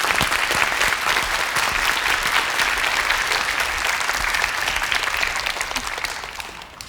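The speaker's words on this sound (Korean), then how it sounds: "큰 박수로 맞이해 주시기 바랍니다" A studio audience in a television lecture hall breaks into loud, sustained applause, dense steady clapping that fills the whole stretch and tapers slightly toward the end.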